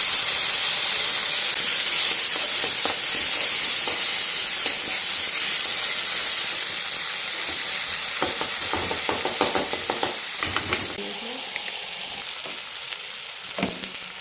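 Onion, green onion and tomato sizzle loudly in a frying pan with hiss, steam and intermittent stirring clatter, the frying gradually quietening toward the end.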